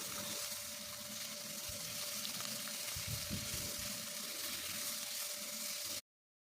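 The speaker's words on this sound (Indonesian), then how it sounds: "Kita goreng ya, bolak-balik sampai matang" Salted ikan asin perek fish frying in oil, a steady close crackling hiss that runs without a break before cutting off abruptly.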